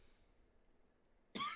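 After near silence, a single sharp, close cough bursts out at the very end from a host on a casual NFL draft podcast.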